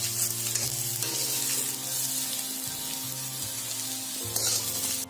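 Radish pieces roast and sizzle steadily in a hot pan while a spatula scrapes and stirs them in a few strokes, close and loud, with no talking.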